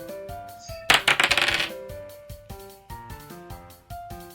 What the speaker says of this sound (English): Dice roll.